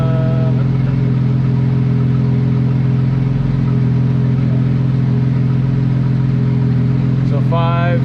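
A 2.7-litre twin-turbo Audi A4 drift car revs hard on a dyno, its engine holding a loud, steady high-rpm drone that surges briefly near the end.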